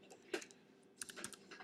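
Quick keystrokes tap on a computer keyboard, a short burst of close, soft clicks in an irregular rhythm with no one talking.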